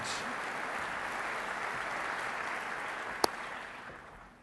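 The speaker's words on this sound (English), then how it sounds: "Hortensia, many applause." Steady applause from a large crowd at a Basketball Hall of Fame enshrinement ceremony fills the whole stretch, dense and continuous, with one sharp click near the end before it fades slightly.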